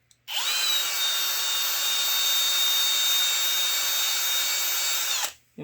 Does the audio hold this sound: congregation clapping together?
no